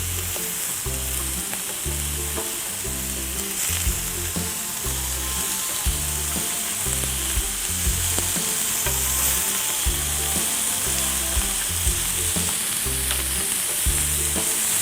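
Fried rice with leftover galbi (marinated short rib) marinade sizzles and crackles steadily in a hot pan, with rhythmic stirring and scraping strokes throughout, close and loud with no talking.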